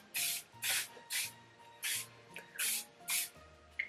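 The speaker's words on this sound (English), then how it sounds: "I'll just put hairspray over my hair." Hairspray sprayed onto hair in a series of seven short, close hissing bursts with brief pauses between them, with no talking.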